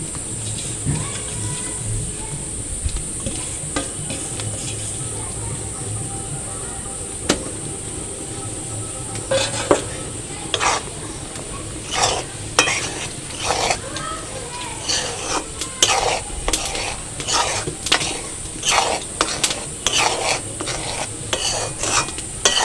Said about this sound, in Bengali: খুব ভালো করে নেড়ে যেতে হবে যাতে না মাঝে বসে যায়।